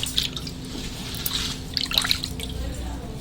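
Leftover water from kneading dough is tipped away in a home kitchen, with splashing and dripping bursts over a low background hum and a faint voice.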